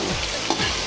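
Green chillies added to potatoes sizzle in hot ghee, a steady close frying hiss with a faint stir partway through.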